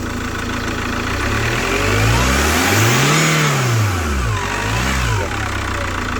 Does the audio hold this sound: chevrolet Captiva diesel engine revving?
yes